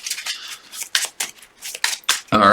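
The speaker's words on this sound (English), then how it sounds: "Man, there's a lot of shuffling in this one." A deck of game cards being shuffled by hand at close range during a superhero card game session: a run of quick, papery riffling bursts in an uneven rhythm, with a voice beginning just at the end.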